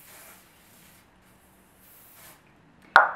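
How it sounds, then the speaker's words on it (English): Hairspray misted onto a fine-tooth comb, heard as one short, sharp spray burst near the end after a quiet stretch with faint hiss. "I'm just going to spray a little bit of hairspray on the comb"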